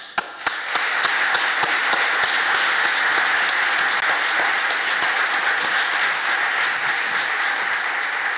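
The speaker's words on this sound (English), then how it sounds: "will you please join me in giving a real warm round of applause to Bonnie Stewart?" A conference audience greets a keynote speaker with a warm round of applause, a few sharp early claps swelling into steady, dense clapping that carries on loudly for several seconds.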